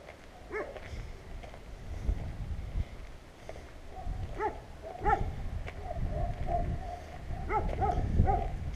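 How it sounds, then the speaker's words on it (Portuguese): Three dogs bark in an outdoor area, sending repeated sharp barks in bursts with short gaps over a low rumbling background; the dogs sound moderately close, and there is no talk. "Três cães aqui nesta zona."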